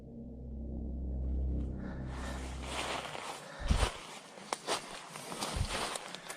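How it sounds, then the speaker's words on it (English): Footsteps in a forest at night: after a low droning rumble fades, a run of irregular crunching steps comes close and fairly loud, uneven in rhythm, with no talk. "I thought the footsteps were the scary sound."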